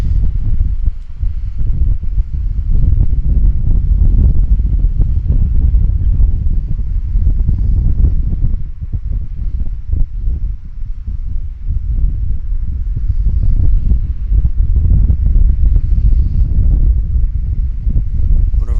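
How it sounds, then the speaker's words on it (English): Strong northwest wind buffets an outdoor microphone at Vancouver Airport, a loud, continuous low rumble with gusting surges throughout and no talk. "the wind is strong, northwest wind"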